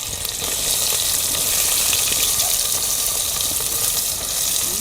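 Garlic, onion and green chili sizzle hard in hot oil in an outdoor farm kitchen, a loud, steady, bright hiss with faint crackle that holds through the whole stretch.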